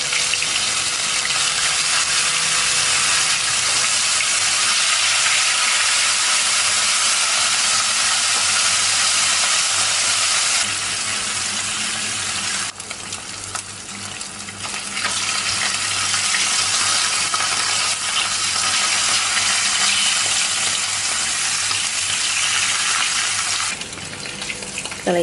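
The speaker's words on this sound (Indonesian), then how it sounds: "Kalau sudah panas, kita akan goreng ikan asinnya terlebih dahulu ya." Salted fish frying in a wok of hot oil gives a loud, steady broadband sizzle and hiss that runs unbroken for the whole stretch, with brief surges in intensity and no voices.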